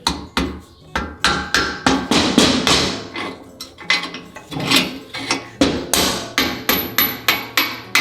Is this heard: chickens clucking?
no